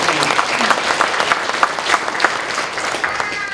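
A church congregation claps together during a Sunday service, a dense, steady burst of applause filling the room for the whole stretch without pause.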